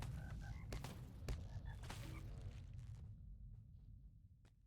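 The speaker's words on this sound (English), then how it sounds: "Did you hear the muffled croaking through the stone?" Muffled croaking through stone in the Moria mines of the LOTRO video game comes as low, deep rumbling croaks under faint scattered clicks, fading away toward the end.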